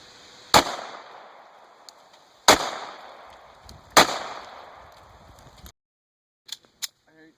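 Three loud, close pistol shots from a Glock 19 at an outdoor range, spaced about two seconds apart, each with a sharp crack and a decaying echo, followed by fainter clicks and handling noise.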